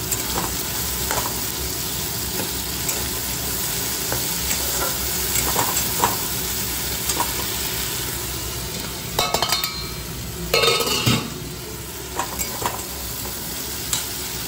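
Potatoes frying in oil for aloo dum, a constant close sizzle with occasional scraping stirs and a few clinks of a utensil against the pan, with no voices.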